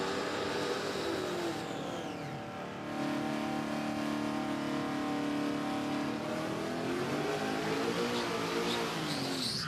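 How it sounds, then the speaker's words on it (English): Early Holden Kingswood sedan and station wagon do smoky burnouts at a drag strip, engines roaring loud and sustained with rising and falling revs and tyre screech, heard from trackside with no talk. "Nice big smoky burnouts both sides of the track."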